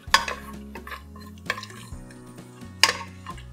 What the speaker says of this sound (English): Saute for a few seconds.